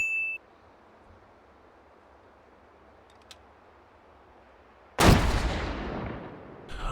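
A single loud blast of gunfire from a video game gun simulator erupts after several seconds of near silence, preceded by a brief electronic beep and a faint click, then a decaying rumble.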